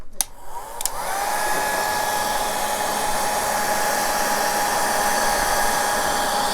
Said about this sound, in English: we're going to hit it with a blow dryer